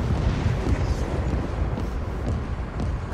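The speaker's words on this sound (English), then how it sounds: "Artillery fire incoming." Artillery shells explode in the video game World War 3, a dense, continuous rumbling roar of heavy blasts that blur together into one loud, booming wash with no distinct individual impacts.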